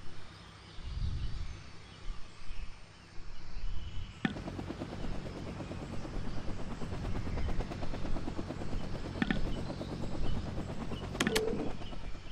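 A helicopter in the Vietnam '65 video game thrums with a steady rotor chop, joined by a sharp onset partway through and scattered clicks and pops of game effects, with no talking.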